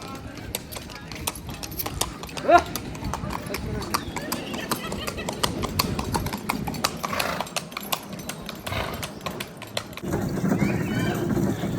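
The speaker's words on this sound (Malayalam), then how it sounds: "കുതിര സവാരി" Steady clip-clop of horse hooves on a hard surface during horse rides at Mount Abu, a quick regular beat close by, with people talking over it.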